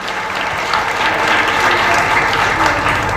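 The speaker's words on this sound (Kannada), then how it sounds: "ಇವರಿಗೆ ನೀವು ಜೋರಾಗಿ ಚಪ್ಪಾಳೆ ಕೊಡಿ" Loud, steady applause from an audience at a rural children's dance academy's first annual event, dense clapping sustained throughout with no talk over it.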